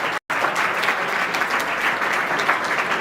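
An audience at a career guidance seminar for government exam aspirants claps steadily, a dense continuous applause from a full room after a brief gap at the start.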